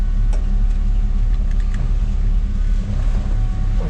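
A steady, low idle from a 1957 Chevrolet Bel Air Sport Coupe's inline-six engine rumbles continuously, close and fairly loud, with no talking over it.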